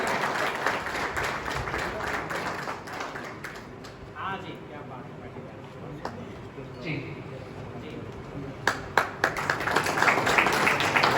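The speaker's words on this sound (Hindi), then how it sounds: "आप सभी अगर अच्छी जोरदार तालियां बजाएंगे" Crowd at a training session claps in scattered bursts that swell into loud, dense applause toward the end, with a voice speaking over the quieter middle stretch.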